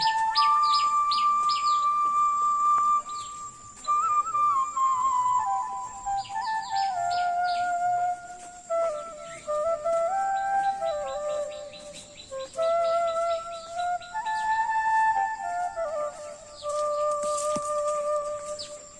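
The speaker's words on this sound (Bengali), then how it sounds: "টুনটুনি পাখির শব্দ" A tailorbird calls repeatedly from nearby in a Bangladeshi village, giving bursts of sharp, bright chirps and descending whistled notes. Short pauses separate the bursts, and no one speaks.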